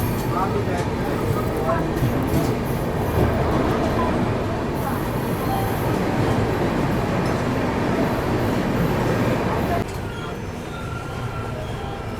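A passenger train rushes past at high speed, a loud, steady roar of wheels and rushing air heard from aboard the Humsafar Express during its Rameshwaram to Firozpur run, with a voice talking over it.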